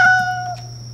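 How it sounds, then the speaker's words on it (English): A single short, clear meow from a lost cat, close and fairly loud, fading out within a second. "I found the kitty!"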